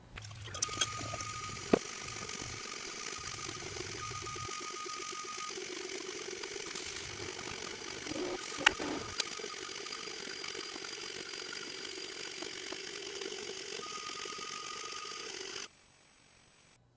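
A Creality CR-10 3D printer printing a test model, its stepper motors whirring in shifting tones with occasional clicks and ticks, a continuous close mechanical hum that cuts off abruptly near the end.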